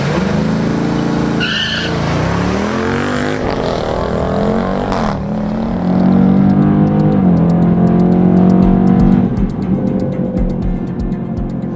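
A Ford Explorer ST and a Dodge Durango SRT, heavy factory SUVs, launch side by side in a drag race. Their engines roar loud and close, and a steady drone builds as they accelerate down the strip, with no talking.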